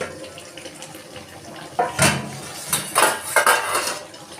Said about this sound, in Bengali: এবার আমি ঢাকাটা তুলে নেবো